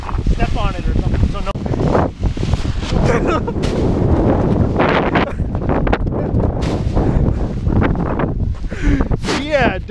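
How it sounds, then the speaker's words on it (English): Strong wind buffets a microphone outdoors while a kite is being flown, with loud, gusty rumbling bursts and thumps throughout, and voices talk beneath and between the gusts. "definitely way too windy."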